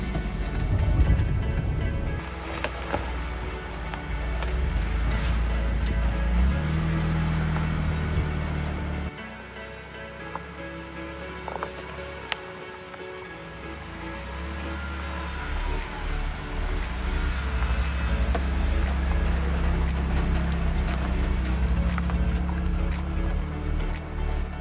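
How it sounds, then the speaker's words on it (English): A vehicle drives off-road in four-wheel low near a Cape Cod campground, a continuous low rumble with shifting knocks and thuds from the rough ground, and no talk. "All right, going into four-wheel drive."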